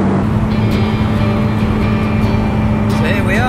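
Lotus Exige V6 cruising on the road at a steady 70 mph, around 2,000 rpm: a constant low engine and road drone that holds evenly throughout, with a thin whine rising near the end.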